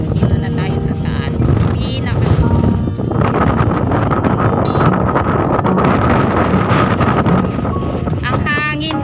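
Strong wind buffeting the microphone in a steady roaring rumble throughout, with people talking underneath, high on Nam Long Shan in Hong Kong.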